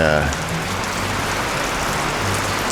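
Steady rain falls outdoors at a barn property, a dense, even hiss of drops filling the clip from start to end, with faint low sounds underneath.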